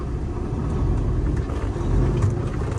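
Engine of a Peterbilt semi truck with an 18-speed manual transmission, heard from inside as a continuous low rumble that swells slightly while it gently accelerates. Nobody talks.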